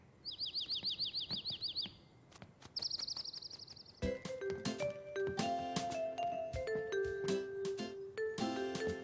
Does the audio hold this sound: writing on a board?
no